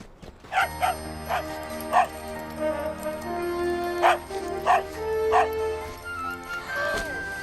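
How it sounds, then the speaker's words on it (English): Two small dogs bark in short sharp yips and bow-wows, scattered over several seconds at a moderate distance. A faint whimper sits under the barking, and a person's voice murmurs in the background. "These are my dogs, Samson and Hercules."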